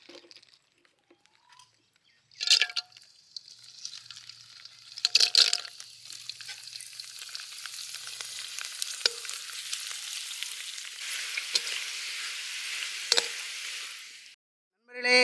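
Colored vadagam crisps deep-frying in hot oil in a village kitchen, a steady bubbling sizzle that swells as each batch drops in, with occasional stirring clatter and no talk.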